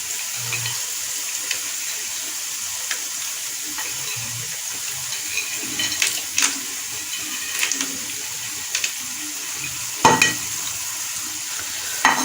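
Pistachios and almonds being stirred into gajar ka halwa in a pan, with soft scraping and sizzling throughout, a few light spoon taps, and a sharper clatter near the end.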